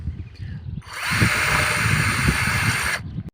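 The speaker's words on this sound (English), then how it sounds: "And then here, you're just going to drill down" A 20-volt cordless drill whines steadily for about two seconds drilling into a concrete rooftop, loud and close, starting abruptly and cutting off, with low knocking underneath.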